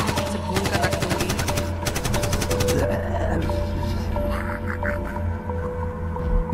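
A rapid burst of automatic gunfire fired at zombies in a horror short film, loud and dense for about three seconds. It gives way to a busy, noisy background with scattered higher cries.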